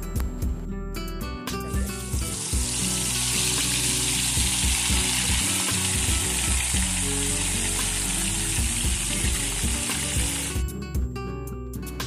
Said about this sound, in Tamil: ஹீட் ஆனதுனால நம்ம இனி எடுத்து வைத்திருக்கிற மில் மேக்கரை நம்ம இதில் போட்டு பொறித்தெடுக்க போகிறோம்.